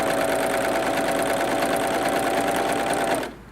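A Pfaff Coverlock 3.0 runs a rolled-hem thread chain with a fast, steady mechanical whir, close and uninterrupted, then stops abruptly near the end.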